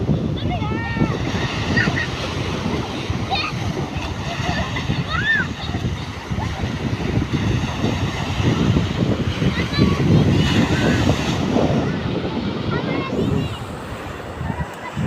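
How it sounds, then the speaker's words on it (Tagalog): Big sea waves surge and splash continuously at a beach where people go swimming. Heavy wind buffets the microphone throughout, and voices call out now and then. "Malalaking alon ha."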